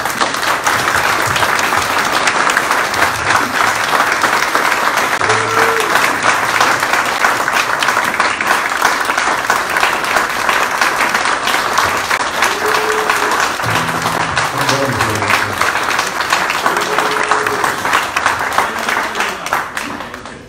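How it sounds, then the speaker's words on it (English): Church congregation applauding at a live jazz vespers service, steady dense clapping that holds for about twenty seconds, with faint low tones and murmurs underneath before it tapers at the end. "we want to uh, give you a give you a round of applause too"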